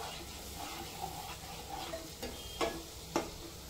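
Tomato paste and spices sautéed in a pan for egg biryani, with a steady low sizzle and a few sharp scraping stirs from a spoon near the end.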